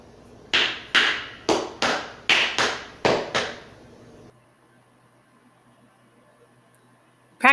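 Metal-tipped tap shoes perform the Shirley Temple step (Broadway & Alexander) in eight crisp, evenly spaced taps, played close and clear. Near-silence follows.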